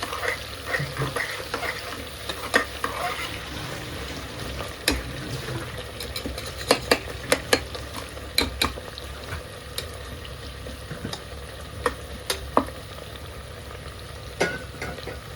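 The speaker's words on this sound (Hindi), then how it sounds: "गरम मसाले डाले हैं साबुत इसके अंदर, और प्याज डाल के अभी अम्मी इसको फ्राई कर रही है" Onions and whole garam masala fry in a pot for a home-cooked veg pulao, a continuous close sizzle with frequent sharp ladle clicks and scrapes against the metal throughout.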